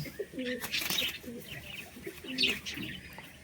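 Eye pigeons coo softly and repeatedly at close range, throaty rolling calls mixed with a few faint chirps and light rustling.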